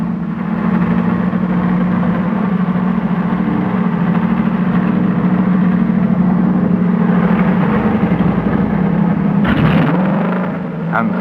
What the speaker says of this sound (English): Hermann Lang climbed once more behind the steering wheel of his W125